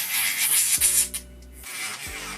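An electric nail drill runs at 15,000 RPM filing the top layer of builder gel on a nail, producing a close sanding whir that pauses briefly midway and then resumes, without speech.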